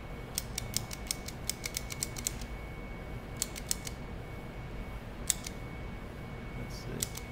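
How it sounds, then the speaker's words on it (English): A handheld tally counter clicks while yeast cells are counted, quiet sharp clicks in quick irregular bursts with pauses between them, heard alone over faint background hiss. "I'm just going to, with my clicker, I'm going to count these"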